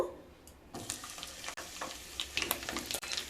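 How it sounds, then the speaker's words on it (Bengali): Cauliflower florets, soaked beforehand in hot salted water, frying in hot white oil in a pan, making a crackling sizzle that starts up suddenly and keeps going with scattered sharp pops, close by and fairly quiet, with no talking. "তেল গরম হয়ে গেলে ফুলকপিগুলো দিয়ে দেব"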